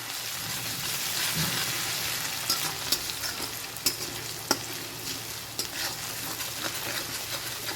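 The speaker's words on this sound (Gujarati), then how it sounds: "બધું જ ઉમેરી લીધા પછી અહીંયા સરસ સાંતળી લઈશું।" Ginger paste, garlic paste and green chillies sautéing in a tempering for sev tamatar shaak, a steady hissing fry with scattered pops and occasional spoon clinks over several seconds.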